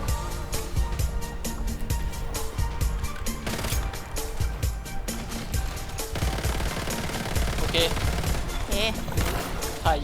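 Rapid gunfire in the online survival shooter Once Human during a PvP fight, dense bursts of automatic shots and pistol fire layered with game effects, loud and continuous, with players talking excitedly over it.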